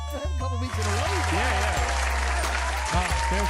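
A crowd applause sound effect plays on a podcast, steady dense clapping throughout with a voice talking over it.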